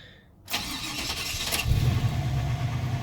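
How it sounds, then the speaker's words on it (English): A car engine with an LT1 V8 cranks briefly, catches, and settles into a steady rumbling idle, loud and close. "So I'm going to start it up and see what it sounds like."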